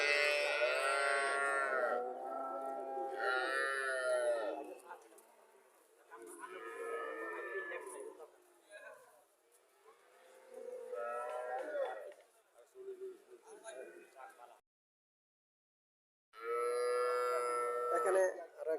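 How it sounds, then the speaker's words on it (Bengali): A cow and her newborn heifer calf on a dairy farm, the calf's navel cord not yet dropped, give several loud, drawn-out moos in separate bursts, with a person talking between and over the calls. "বাছুর আর গাভী মিলে আছে।"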